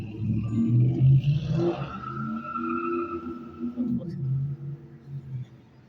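An orange truck drives by with a droning engine whose pitch rises and falls, along with some tire-like squealing tones, continuing steadily for several seconds.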